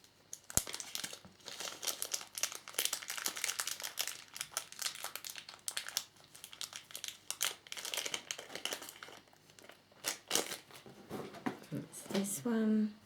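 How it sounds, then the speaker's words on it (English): A small oval sticker for a scale model of Valentino Rossi's Yamaha YZR M1 motorcycle has its protective backing peeled off, giving close, steady crinkling and crackling rustles throughout, with a faint voice near the end. "take a small oval sticker supplied with this magazine and remove its protective backing"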